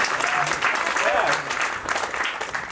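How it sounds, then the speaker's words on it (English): A comedy club audience applauds as a comedian is introduced, a loud, uneven burst of clapping with whoops and voices rising over it. "Put your hands together for my good friend, Mr. Justin Williams."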